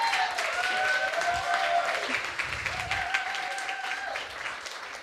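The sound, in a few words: audience applause at a demo day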